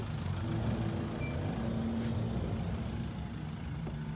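Recovery vehicle at a race track, a steady low rumbling engine drone that stays loud and close throughout, with no talk.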